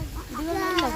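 A single short, nasal cluck from a nearby chicken, rising then settling in pitch, loud and up close against faint background noise.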